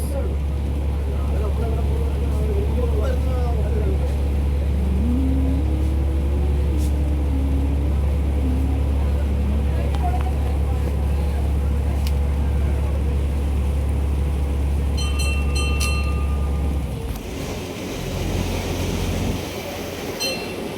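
A government ferry cruises the Alleppey backwaters in Kerala, India, its engine droning in a loud, steady low rumble, with faint voices and a brief shift in the engine sound near the end.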